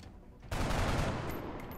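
A sudden burst of automatic gunfire from XCOM: Enemy Within erupts after a quiet moment, a sustained rattling volley that slowly fades.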